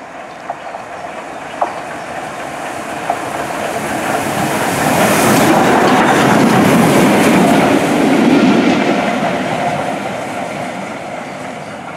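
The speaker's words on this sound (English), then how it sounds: "we're also at Mytholmroyd Station to get the Royal Scot passing through, and it's just gone past through Mytholmroyd railway station" The Royal Scot train passes through Mytholmroyd railway station with a broad rushing roar that swells to a peak mid-way and then fades, over a few faint clicks.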